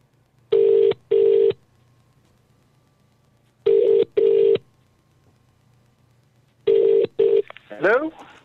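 Outgoing phone call ringback: three pairs of loud, steady electronic ring bursts at regular intervals, the last pair cut short as a brief voice-like sound follows.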